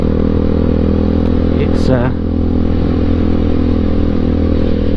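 A KTM 390 Duke motorcycle is ridden at steady speed, its engine droning loud and constant under heavy wind rumble, while a rider talks over it.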